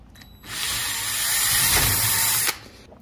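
A magic socket from Kusonkey spun by a power drill backs out an eye hook: a single steady two-second whir of the drill motor, loud and close, starting and stopping abruptly with no talk.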